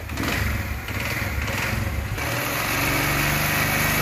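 CD 70 motorbike engine after a tappet adjustment, kicked into life and running steadily with a buzzy, even idle, close and continuous throughout with no talking.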